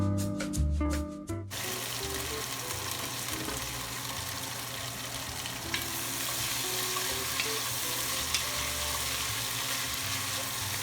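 Potatoes sizzling in a pot of rendered bacon fat for New England clam chowder, with a brief clatter of them going in and being stirred, then a steady, moderately loud frying hiss with no talk.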